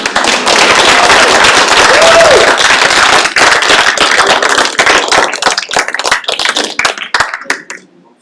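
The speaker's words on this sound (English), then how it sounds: "a huge round of applause for Michael" A loud round of audience applause at a youth apprenticeship signing-day ceremony, dense clapping that thins into scattered individual claps and fades out.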